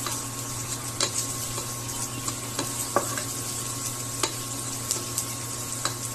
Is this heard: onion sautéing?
yes